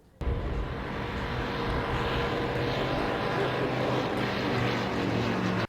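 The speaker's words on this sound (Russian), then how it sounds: "Над парком пролетает пилотажная группа аэродрома Первушина." An aerobatic team of propeller aircraft from the Pervushin airfield flies low over a park, making a loud, steady engine drone that starts abruptly and holds for several seconds.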